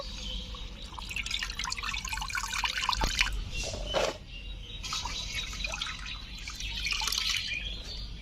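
Freshly picked red amaranth greens swish and splash in water as they are washed, with trickling, dripping water and a few louder sloshes, close up and without voices.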